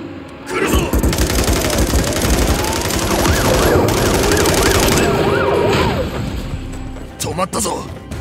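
An ambulance siren wails in a Call of Duty Modern Warfare III campaign scene, loud and close with rising and falling sweeps, over a rumbling engine and surrounding game noise.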